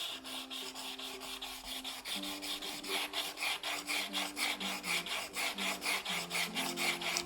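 Steady rhythmic rasping of a high-speed steel graver bit scraped back and forth on sandpaper, close and continuous, with regular strokes throughout.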